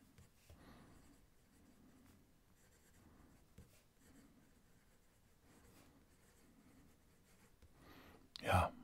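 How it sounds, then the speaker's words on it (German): TWSBI ECO fountain pen writing on paper, faint soft scratchy strokes in a quiet room, repeated irregular rubs, ending with a louder brief bump. "ihr könnt jetzt nochmal beim Schreibtest richtig zuhören und da rede ich auch nicht dazwischen"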